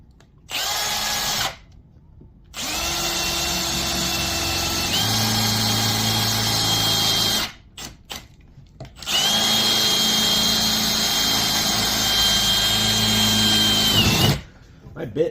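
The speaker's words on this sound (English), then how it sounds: "I got to go get my drill with my unibit. We're going to drill that out" A power drill fitted with a unibit step bit bores through sheet metal on a reducer fitting. Two long, loud whining runs with changing pitch are broken by pauses, with a voice heard briefly between them.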